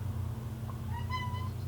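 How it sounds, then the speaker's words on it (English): A pet cat gives a single short meow partway through, faint and close-ish over a low indoor hum. "You gonna meow at me?"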